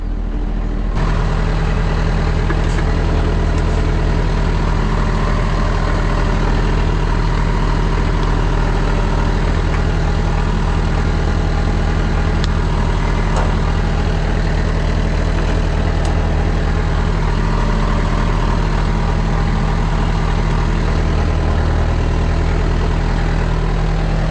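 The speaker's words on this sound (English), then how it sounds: "This engine is very quiet, even though probably it doesn't sound like it, but it's really quiet" A truck engine idles steadily, heard from inside the cab as a loud, constant low drone with a fixed hum, unchanging throughout with no talking.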